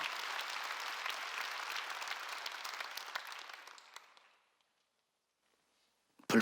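A church congregation applauds during a Sunday worship service, a dense broadband clapping that fades out over about four seconds, followed by silence and a short sharp noise at the very end.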